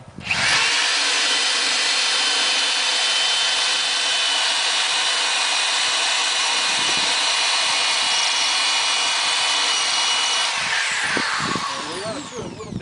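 A handheld power drill whines steadily and loudly up close for about ten seconds, boring holes into a plastic bucket, then winds down with brief rattling handling noise.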